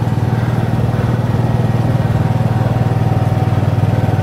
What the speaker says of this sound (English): Again, about 54 hours on the generator. It's been going for about 3 hours now